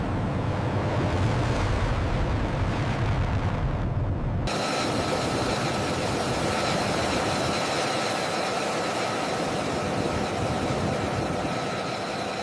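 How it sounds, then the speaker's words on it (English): A steady jet engine roar from an F-22 Raptor moving onto the runway, loud and continuous, shifting to a brighter, more broadband tone partway through. "The F-22 is moving onto the runway."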